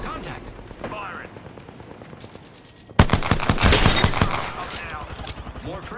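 Rapid bursts of automatic gunfire crackle in a hectic Apex Legends battle, starting intermittently and then swelling into a loud, dense volley midway, with game voice lines and player chatter mixed in.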